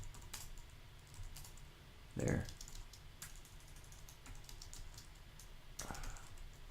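Commands typed on a computer keyboard during a router configuration lab, with faint, sparse key clicks under a low background hiss and a brief spoken word.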